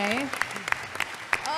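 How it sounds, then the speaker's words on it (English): Audience applause fills a BlizzCon 2017 Overwatch panel hall, a steady wash of clapping from a large crowd running beneath a person talking over it. "Let's all clap for Anna, because she's amazing"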